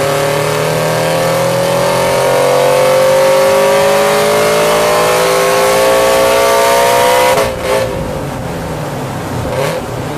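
Toyota GT86 flat-four engine revving hard on a dyno, pitch climbing steadily for about seven seconds before the throttle snaps shut and it drops away, with brief blips afterward; loud and close, no talking.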